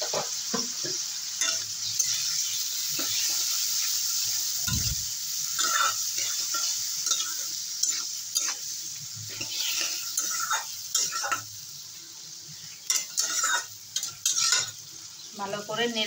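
Mixed vegetables with ground ginger and green chilli paste, salt and turmeric stirred and fried in oil in a home kitchen, a steady close sizzle with repeated scraping and clinks of a spatula against the pan, no talk.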